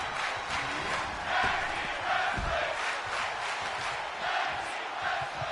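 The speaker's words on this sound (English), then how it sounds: "The crowd digging the tag team wrestling right now." Virtual arena crowd in the WWE 2K22 wrestling video game cheering during a tag team match, a steady, dense roar of many voices that holds at an even level throughout.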